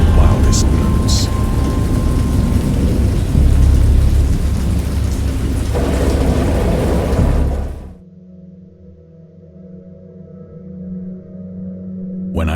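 Thunderstorm with heavy rain from the Lovecraft point-and-click game Dagon: a loud, continuous downpour with rumbling thunder that cuts off abruptly, leaving a faint low drone, while a voice narrates over it.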